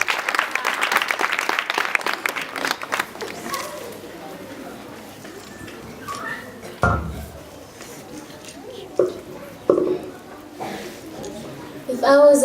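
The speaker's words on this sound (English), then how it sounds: "Can we call upon Michaela with a warm round of applause?" Audience applause welcomes a contestant at a speech contest, a dense burst of clapping over the first few seconds that quickly thins out, followed by scattered noises, shuffling and brief voices in the room.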